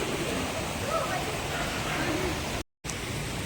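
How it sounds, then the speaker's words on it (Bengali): Water streams steadily over stones beside an ashram temple in Assam, a continuous broadband rush heard up close, briefly cut by a short dropout near the end. "পুরো ওই যে জলটা যাচ্ছে পাথরের উপর থেকে"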